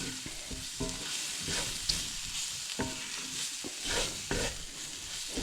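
Seafood cream sauce stirred in a pan, with a steady soft sizzle and scraping utensil strokes recurring in an uneven rhythm, close and moderately loud, no talking.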